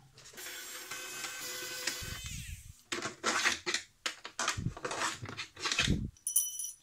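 Screws being unscrewed by hand from the casing of a Thunderbox 600W portable power station during a teardown, giving a run of close, uneven scraping and squeaking bursts with short clicks and pauses between turns.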